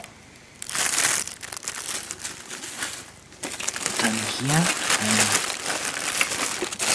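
Packing paper crumples and crinkles while a large, heavy parcel of electronics, including a car stereo amplifier module with a big heatsink, is unpacked. Close, dry rustling bursts come and go under a man's speech.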